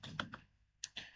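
Typing on a computer keyboard during a climate-modelling lecture: a handful of faint, close clicks in two quick bursts with a short pause between, no talking over them.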